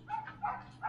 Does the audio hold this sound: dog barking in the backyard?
yes